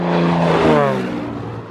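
A Beechcraft F33A Bonanza with a brand new IO-550 engine runs nearby, a loud droning roar with a rising, echoing tone that swells, then fades slightly.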